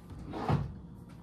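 A drawer in a hotel room slides open or shut with a single soft wooden thump, close by and brief, over quiet room tone.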